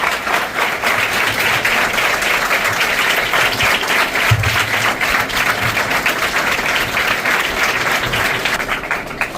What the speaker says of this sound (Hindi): हमारे अतिथियों का तालियों से जोरदार स्वागत कीजिए।